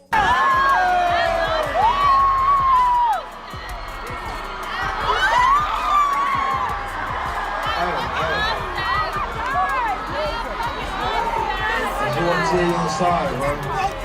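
A huge crowd of more than 60,000 people at a Rolling Loud concert cheers and whoops continuously, with shouting voices and excited chatter blending into a loud, dense roar throughout.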